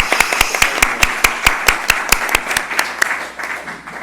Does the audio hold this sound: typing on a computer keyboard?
no